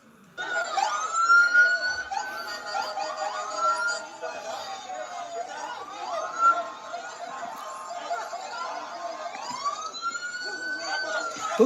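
Police sirens wail through a city street scene in New York during a clash between protesters and immigration agents, with rising and falling electronic tones repeating over about twelve seconds, moderately loud, with crowd chatter and voices mixed underneath.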